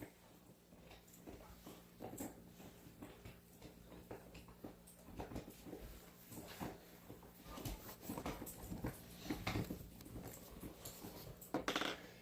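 Luna the puppy shuffles and moves about with soft intermittent whimpers and small clicking sounds, fairly close, over a steady low background hum with no talking.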